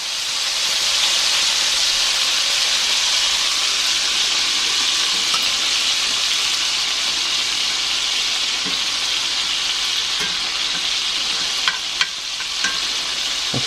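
Ribeye steak sizzling in a cast iron pan, a steady loud crackling hiss that holds for the whole stretch, with a few small pops and clinks near the end.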